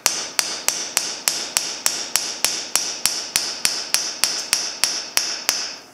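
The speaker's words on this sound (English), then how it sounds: "You notice I'm using a nail set. It keeps the hammer away from the glass" Sharp, evenly spaced metallic taps of a hammer on a nail set driven into a wooden door frame holding glass, about three per second, ringing close and loud with a brief decay after each strike.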